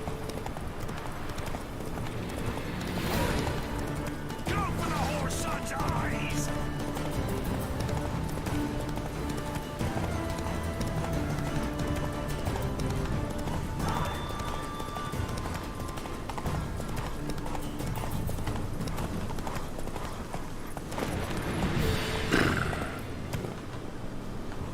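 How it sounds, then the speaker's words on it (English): A horse gallops in The Witcher 3 video game, its clip-clopping hooves beating steadily and close the whole way through. Background game sounds play under it, with a brief louder burst near the end. "Bájese del caballo."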